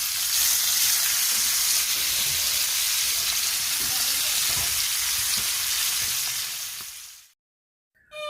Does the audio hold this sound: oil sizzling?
yes